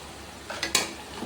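Eggs are added and stirred into a dried fish gravy (thokku) in a pan, giving a brief cluster of spoon scrapes and light metallic clinks over a soft background hiss.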